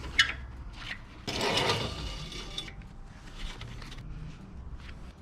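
Camping trailer support leg being pulled out, a close scraping, rasping slide lasting about a second amid light clanks and mechanical rattles, with softer scrapes afterward.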